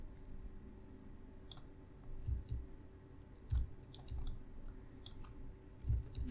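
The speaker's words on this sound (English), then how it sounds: "I press U on the keyboard and begin projecting." Keyboard keys pressed on a computer, a scattering of soft, sharp clicks at irregular intervals, close and quiet, with low thumps and no talk.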